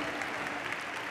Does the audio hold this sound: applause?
yes